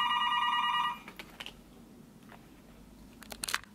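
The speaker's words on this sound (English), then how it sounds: "my phone rang" A phone rings loudly in short, dense trilling bursts for about a second, then cuts off, leaving quiet room tone with a few faint clicks and rustles.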